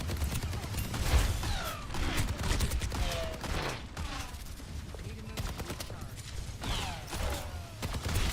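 Rapid gunfire rattles through the Overwatch video game match in repeated bursts, with mechanical weapon clicks and creaks between shots and faint voice chatter underneath.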